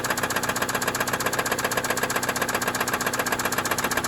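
A car engine idles steadily with Motor Medic Motor Flush circulating through it, a constant, even mechanical hum with a fine rapid pulse running unchanged throughout, no voices over it.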